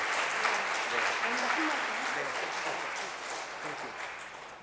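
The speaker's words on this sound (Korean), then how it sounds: "큰 박수로" A large church congregation applauds steadily and warmly, dense clapping that fades slightly toward the end.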